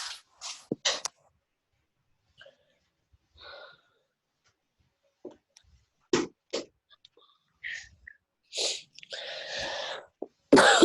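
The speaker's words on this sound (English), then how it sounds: "you're coughing" A person coughs and sputters in several short, harsh bursts scattered between pauses, close to the mic, ending in a louder, rougher fit.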